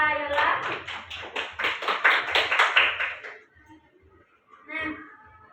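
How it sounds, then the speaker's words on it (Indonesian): Classroom applause for a student presenter: a few seconds of brisk, fairly close hand clapping that fades away, followed by a short burst of speech. "Silakan beri aplaus kepada Yola."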